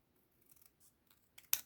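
Scissors snip through something small at close range, with a few faint soft cuts building to one crisp, louder snip at the end in an otherwise quiet room.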